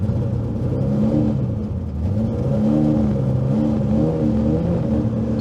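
A V10-swapped rear-wheel-drive Lincoln Continental rumbles and revs close by, its engine note rising and falling in several accelerating pulls, loud and steady with no talking.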